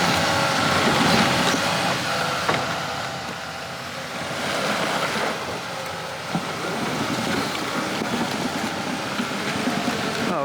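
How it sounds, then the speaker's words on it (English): Big tree-cutting machine working outdoors while trees are being felled and thinned, a loud continuous engine drone with rumbling swells and occasional knocks, fairly close, with no one speaking. "Wow, it's a big old machine. They're cutting the trees down."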